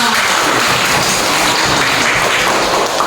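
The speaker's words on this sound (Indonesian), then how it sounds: "Tepuk tangan" Classroom audience applause after a teacher's lesson on types of tawaf, a dense, steady wash of clapping at constant loudness with no talk.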